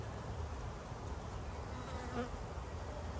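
Honey bees buzz steadily in and around a hive in an apiary, a dense continuous drone close by with no pauses or voices.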